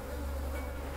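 Flies buzz continuously around rotten food in the Beasts of Bermuda video game, a steady, droning hum heard alone and fairly quiet.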